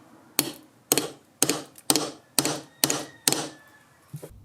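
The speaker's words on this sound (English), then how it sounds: "Just hit it with a hammer." Seven sharp hammer blows strike a small clamp to swage a brass fitting, evenly spaced about half a second apart, each ringing briefly, with a lighter final tap.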